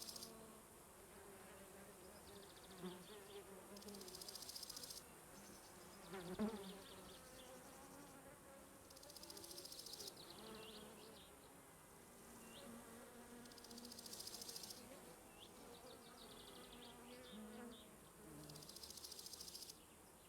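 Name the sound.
wasp buzzing, from a video game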